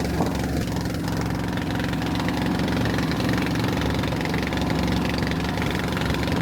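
A boat motor chugs steadily and loudly with a knocking, mower-like rhythm on the ride to Koh Adang in Thailand, constant and close, with no voices.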